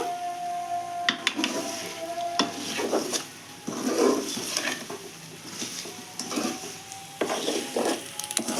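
Spicy eggs fry in a pan while a utensil scrapes and stirs them, giving irregular close scraping strokes and knocks over a low sizzle, with no talk.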